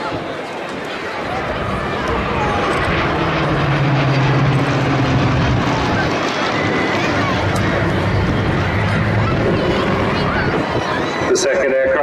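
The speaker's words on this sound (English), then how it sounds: "The second aircraft, a Hurricane 2C, is flown by Stu Smiley." A Hawker Hurricane 2C propeller aircraft flies past at a Battle of Britain Memorial Flight display in Cleethorpes, a steady broad engine drone building and holding throughout, with a commentator talking over it.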